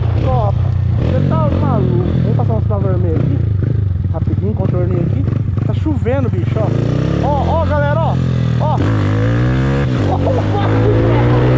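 A Honda Titan 160 motorcycle built up to a 205cc TBI engine revs and accelerates loudly up close, its engine pitch rising and falling through repeated throttle blips while people talk excitedly over it.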